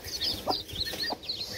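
Chickens in a backyard aviary, including a Sussex, cluck in short rapid bursts mixed with higher chirps from smaller birds, close and lively with no talking.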